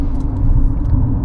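A new Tata Sierra SUV with a 1.5 L automatic engine rolls along a road, a steady low tire-and-engine rumble heard from inside the cabin.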